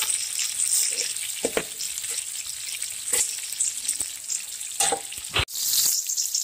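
Halved medium tomatoes fry in a pot for mutton pulao, giving a loud, dense sizzle throughout, broken by a few stirring scrapes and a sharp knock.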